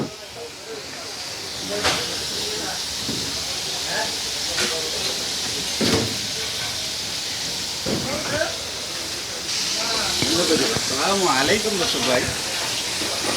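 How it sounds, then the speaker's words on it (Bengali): Chicken pieces fry in a large amount of hot oil at a roadside food stall, giving a steady, loud hiss and sizzle with clatter and voices mixed in. "দেখছেন কতগুলা তৈলের ভিতরে চিকেন ফ্রাইগুলো তৈরি হচ্ছে"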